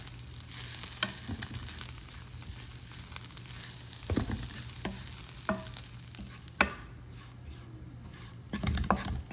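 Grated coconut, shallots and curry leaves roasting in a non-stick pan over low heat, with a steady sizzle broken by repeated scraping stirs and a sharp clank or two; no talking.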